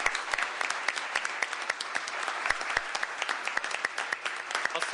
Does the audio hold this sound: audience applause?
yes